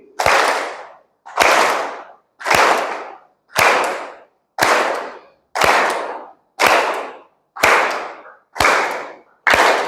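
An audience at a presentation claps with open hands loudly in unison, ten sharp, evenly spaced bursts, each a strong crack that fades briefly before the next, with no talking between them.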